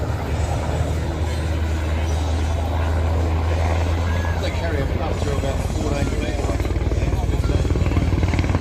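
An MD-500 helicopter flies at the Warbirds over Wanaka airshow, its steady low rotor thump and engine drone loud and continuous throughout.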